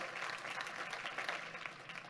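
A church congregation applauds together, a steady wash of clapping that holds evenly throughout at moderate distance.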